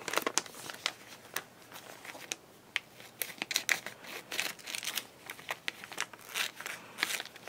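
Scissors carefully cutting a plastic journal cover, producing a steady series of sharp, crisp snips and crinkles close by, irregular in rhythm over several seconds with no talking.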